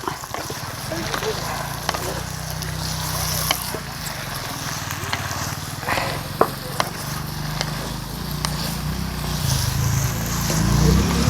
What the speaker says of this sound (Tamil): நார்த்தங்காயை போட்டு பழத்தை போட்டு நல்லா வதக்கணும்.